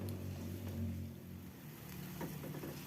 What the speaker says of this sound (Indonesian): Setelah airnya mendidih seperti ini